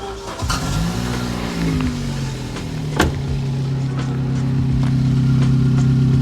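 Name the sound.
car engine starting and running, £400 hot hatch track car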